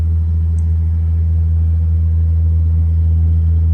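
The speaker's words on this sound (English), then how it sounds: "It's the blower motor, and it's humming" A furnace blower motor in a home air-conditioning furnace hums steadily, a loud, constant low drone with a faint buzzing overtone and no breaks, no voices.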